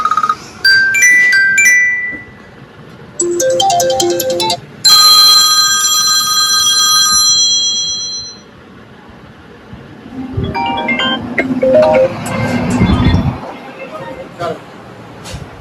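Several ringtones played one after another through the speaker of a used iPhone, bright melodic electronic tunes and bell-like chimes in short bursts with brief gaps, loud and close, followed by a busier, noisier tone.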